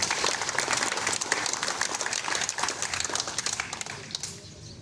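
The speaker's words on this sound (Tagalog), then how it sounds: "dinig naman po nila ang inyong palakpak para po sa pasasalamat sa mga tumulong po sa atin" Applause from an audience at a public year-end report to the community, a wash of clapping at moderate loudness that thins out over the last second.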